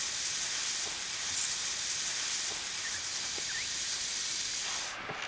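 A handheld plastic welder melts a large-diameter plastic welding rod during repair of a cracked pool pump cap, giving a steady, close airy hiss that runs unbroken with no talking.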